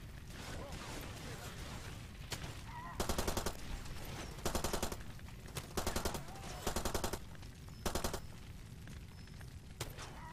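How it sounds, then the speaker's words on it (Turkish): Sniper and automatic gunfire in the video game Far Cry 2 crack out in repeated short bursts over a low background rumble, sharp and fairly loud, spaced a second or two apart. "Bir yerden sniper sıkıyor da."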